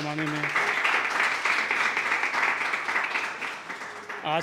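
An audience at a poetry event in Pune claps steadily and fairly loudly for several seconds, with a voice briefly heard at the start and again at the end.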